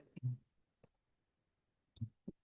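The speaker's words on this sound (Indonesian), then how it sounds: "Kita coba ketik aja ya." A few sparse taps on a computer keyboard, close and crisp, arriving in irregular pairs with short silences between, no speech.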